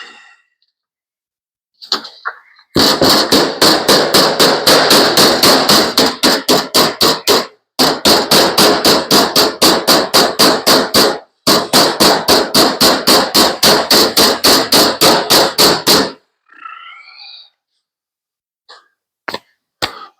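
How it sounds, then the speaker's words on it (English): A hammer rapidly pounds sheet metal on a handmade trunk lid for a 1935 Ford, loud sharp blows fired in quick, even runs of several seconds separated by brief pauses. "Gotta pound that in. Anybody got a hammer?"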